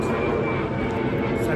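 An airplane drones steadily overhead through the whole moment, a continuous broad engine roar mixed with outdoor ambience on a Sunday morning trip to a cricket ground.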